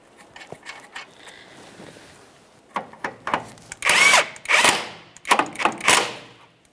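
Short bursts from a power tool running a mounting nut onto a steering knuckle on a 2012-2015 Honda Civic, loud and close, stopping and starting several times with pauses between bursts.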